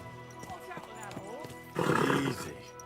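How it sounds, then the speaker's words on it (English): A horse neighs loudly and harshly close by, a rough drawn-out whinny following a stretch of quieter sounds with tonal background music. "What's happened to that horse?"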